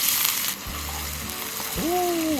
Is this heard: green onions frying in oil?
yes